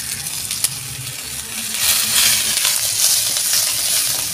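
Whole masala spices (cashews, poppy seeds, cinnamon, cardamom and cloves) are roasted in a pan for a mutton curry. A soft hiss that rises midway is broken by a single sharp clink, with no talk.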